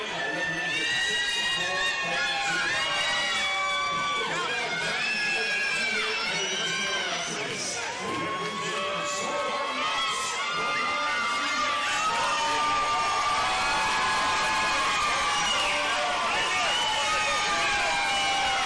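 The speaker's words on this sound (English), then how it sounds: "Great cheering section for your Highness" Crowd at a professional boxing match in the Corral Arena cheers and shouts continuously, many voices and chants layered into a lively, sustained roar, with voices rising and falling throughout.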